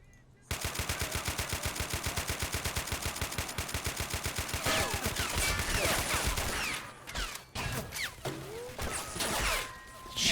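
Rapid, sustained machine-gun fire in the Men of War: Assault Squad video game, a fast even burst of close shots that gives way to scattered gunfire, crashes and impacts.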